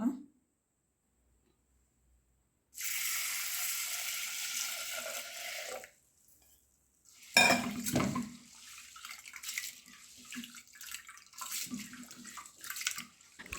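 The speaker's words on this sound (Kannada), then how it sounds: "ಎರಡು ಮೂರು ಬಾರಿ ಆದರೂ ನಾವು ಇದನ್ನು ತೊಳಿಬೇಕು ನೀರು ಸ್ವಲ್ಪ ತಿಳಿಯಾಗುವ ತನಕ ತೊಳೆಯಬೇಕು" Two glasses of parboiled red rice washed in water in a home kitchen. A burst of near, rushing water pours for a few seconds, then a pause, then sloshing and swishing as the grains are rinsed by hand.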